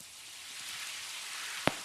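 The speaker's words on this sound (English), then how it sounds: "it started to rain out here" Rain falling outdoors as a steady broadband hiss, with one sharp close tap near the end.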